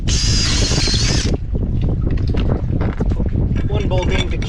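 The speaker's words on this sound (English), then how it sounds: "Oh, that wind is starting to pick up." Wind gusts buffet a microphone on the deck of a wooden boat under restoration, a loud broad roar and rumble, mixed at first with a high whining drill and followed by scattered knocks and someone talking.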